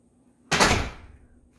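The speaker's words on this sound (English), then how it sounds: "Two big closet doors right here." A closet door in a condo entryway opens with one sudden loud knock or thud that decays over about half a second, heard alone and close.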